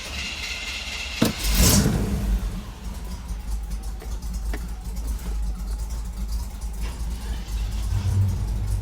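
A square-body truck's engine runs steadily while driving up a national forest road, a broad low rumble with a brief louder surge near the start, holding constant throughout.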